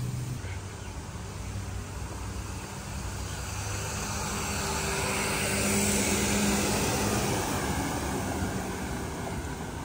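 Water features flow along the approach to the lobby at Aulani, a Disney resort on Oahu, Hawaii, giving a soft, continuous wash of splashing water with light wind in the background.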